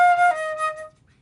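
A flute plays a short run of three smoothly slurred stepwise notes in baroque style, bright and clear, ending after about a second with the tone fading out.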